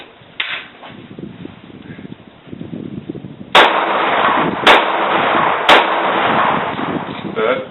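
A Kahr PM9 pistol firing 124 grain +P rounds outdoors, with three sharp, loud shots spaced about a second apart, each followed by a lingering echo, after a stretch of quiet handling noise.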